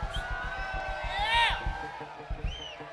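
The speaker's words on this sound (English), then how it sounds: "A round of applause." At a Chicago Farmer 1000th show, a crowd cheers for the guitarist with whoops and high whistles rising over a muffled rumble of clapping and voices, the loudest whoop near the middle.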